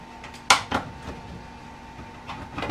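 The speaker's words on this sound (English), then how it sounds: "And then all you have to do is close the door." The access door of a home heat recovery ventilator (HRV) unit being shut, a sharp close thud followed by a softer knock, then faint rattling and handling noises in a quiet room.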